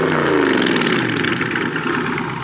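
Jeep Gladiator styled like a military Humvee, with its exhaust heard up close: a loud, steady rumble that drops slightly in pitch and then settles.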